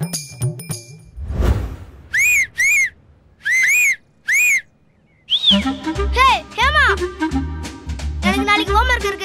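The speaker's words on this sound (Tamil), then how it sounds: "எனக்கு விசில் அடிக்க கத்துக்கொடுறா" Four short, piercing whistle notes ring out with a rising-falling pitch, followed by a busier stretch of warbling whistles over a low hum, with brief bursts of speech before and around them.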